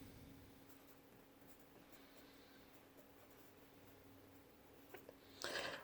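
Pen or marker scratching on a surface while drawing the axis of symmetry on a parabola graph, faint continuous strokes with a louder scrape near the end, close but quiet.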